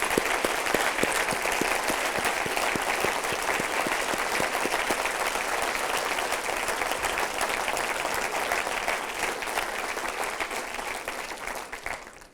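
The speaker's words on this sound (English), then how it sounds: "So a round of applause to you." MBA graduation ceremony audience giving sustained, even applause, many hands clapping at a moderate distance and slowly tapering off at the end.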